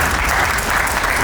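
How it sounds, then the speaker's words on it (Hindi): Audience applause at an Indian business inspiration talk, a dense burst of continuous clapping from a crowd, loud and steady throughout the short moment. "आपकी ताली और मुस्कान से मुझे कोई एतराज नहीं।"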